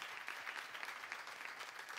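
A church congregation applauds during a sermon on the Psalms, a steady wash of clapping from many hands that holds evenly throughout, with no voices over it.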